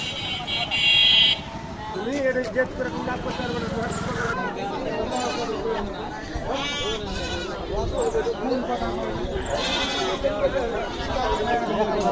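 Goats bleat repeatedly amid a busy temporary goat market on a crowded street, their calls rising over a constant murmur of many people talking and moving about.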